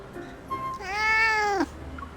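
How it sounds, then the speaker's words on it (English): A single drawn-out cat meow in Love and Deepspace rises and then bends downward, clear and close, after a brief softer chirp, with quiet background around it. "The cat meows at Xavier"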